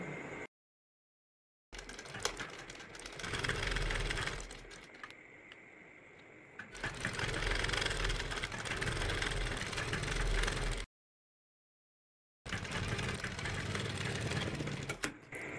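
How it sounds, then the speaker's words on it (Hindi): Sewing machine stitching piping cord into folded fabric for a collar, a steady fast mechanical whir in long runs separated by pauses and cuts, close and even. "डोरी की जड़ में सिलाई लगानी है।"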